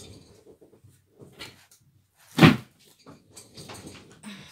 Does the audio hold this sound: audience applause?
no